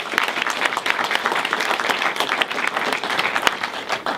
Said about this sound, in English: So could we just give everyone a round of applause?